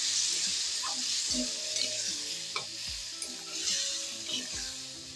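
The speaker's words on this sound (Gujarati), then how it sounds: "હવે આપણે એની અંદર બે થી ત્રણ ચમચી જેટલું પાણી નાખશું" Water splashed into a spiced chili tempering in a pan for a dahi marcha dish, giving a steady broadband sizzle with occasional stirring clinks throughout, close and fairly loud with no talking.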